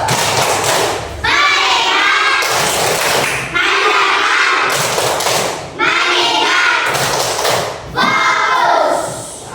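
A group of children in an Islamic religion lesson performs the 'tepuk fokus' rhythmic clapping chant, loud bursts of claps and chanted voices repeating in regular phrases with short pauses between.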